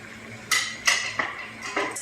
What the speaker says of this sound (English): Make sure you whisk it really good so your gravy's not lumpy.